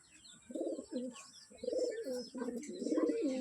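A pigeon from Ranaghat, newly paired with a black pigeon, coos in repeated throaty, bubbling phrases close by, several bursts in a steady rhythm growing slightly louder.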